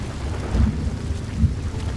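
Heavy rain and rumbling thunder in a shooter video game, a dense wash of rain with low thunder swells, loud and continuous with no talking.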